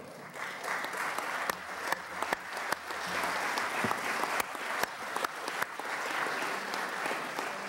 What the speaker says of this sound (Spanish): mediante un aplauso para don Nicanor Parra